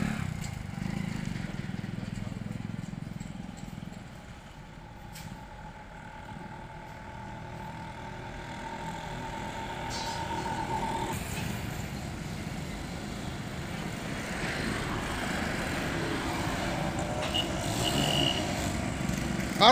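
A motorcycle tows a loaded bike trailer through a turn, its engine a steady mid-level drone with rattling and clattering from the trailer, while people talk faintly in the background.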